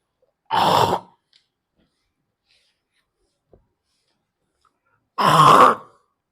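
Someone with phlegm clears their throat in two harsh, close bursts separated by several seconds of silence.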